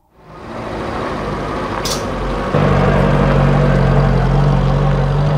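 A jeep-type car passes on a road, its engine rising into a steady mid-pitched drone that grows louder and holds near the end, with no talking.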